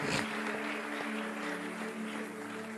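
Church congregation applauding in a worship gathering, a steady wash of clapping over a sustained tone, moderately loud and continuous without speech.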